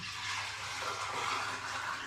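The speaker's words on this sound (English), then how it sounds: "So I'm going to add another 2 litres of water into the pan." Water poured steadily into the pan of a Tectake fruit steam juicer, a continuous splashing rush with no break, moderately loud and close.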